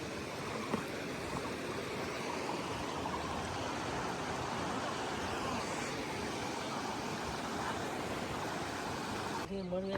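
A river stream in Nuwakot, Nepal, rushes steadily with a broad, even wash of flowing water, and indistinct voices sit faintly beneath it.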